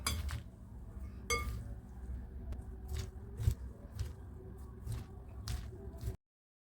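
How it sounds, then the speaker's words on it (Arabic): A spoon stirring ingredients in a pot of Iraqi dried bean stew gives sparse, quiet clinks against the pot at uneven intervals, with soft squishy movement between them. "راح أقلب المكونات"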